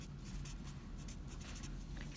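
Pen writing on paper while noting an element name from a periodic table, a steady soft scratching that runs continuously at close range with no talk.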